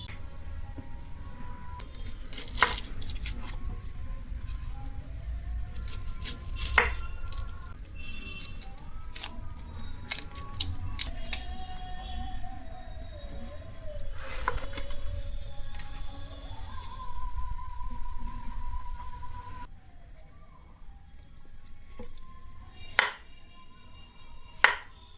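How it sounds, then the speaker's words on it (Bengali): Vegetables being chopped with a knife, with irregular sharp knocks on a board coming in clusters and pausing, close and moderately loud, over a low background hum with tonal noises drifting in. "ততক্ষণ আমি কিছু কেটে নিই।"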